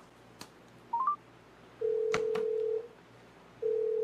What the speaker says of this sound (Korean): 그럼 이렇게 백종원 선생님한테 전화해서 물어보죠